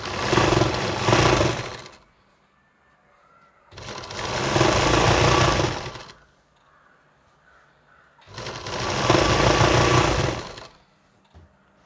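A sewing machine stitching an umbrella churidar, running in three loud bursts of rapid whirring with quiet gaps between them and no talking.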